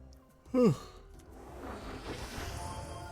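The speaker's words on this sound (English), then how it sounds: "I don't know why I cannot stop yawning this morning" A single person's short, breathy yawn, a quick rising-then-falling vocal sweep followed by quiet exhaled air, close and soft, in a quiet room.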